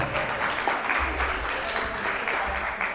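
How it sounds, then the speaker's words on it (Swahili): A comedy show audience in Tanzania breaks into loud, sustained clapping that fills the venue at a steady density for the full few seconds, with no speech over it. "Makofi mengi sana kwangu."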